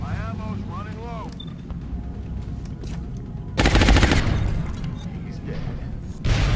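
Gunfire in the XCOM video game: rapid automatic bursts and a heavier boom mid-clip, with a second burst near the end, over a steady game soundscape and background music.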